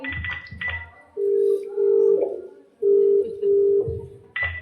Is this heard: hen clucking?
no